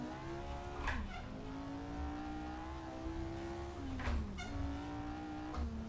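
A Lotus 49 race car corners hard at the 1968-layout Fuji circuit, its engine note sweeping down and back up through gear changes while tyres scrub, loud and close throughout with no talking.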